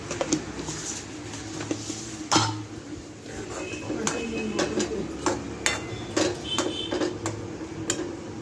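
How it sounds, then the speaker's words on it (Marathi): Upma of semolina and water stirred in a pan with sharp scrapes and clinks of a spoon against the metal, repeated at an uneven pace, close and moderately loud, with faint kitchen noise behind. "आता आपण हे मिक्स करून घेऊ"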